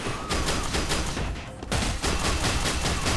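Rapid automatic gunfire in the online shooter game Fear Online: a dense, loud, continuous burst of shots with a brief dip partway through.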